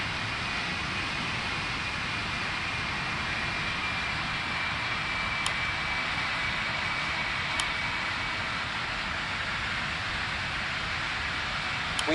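In a flight simulator game, the jet engines of an Egyptair Boeing 777 taxiing at Dubai hold a steady, even whine and hiss for the whole stretch, with a faint high tone and a couple of brief ticks.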